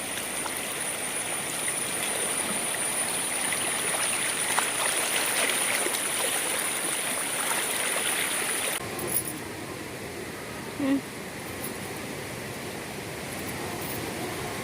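Shallow river water runs low and steady near the bank of a bathing spot, a soft continuous rushing hiss with a faint high whine in the first half and a couple of brief knocks later.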